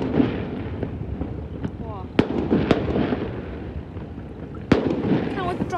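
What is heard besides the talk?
firecrackers set off as fishing boats go out to sea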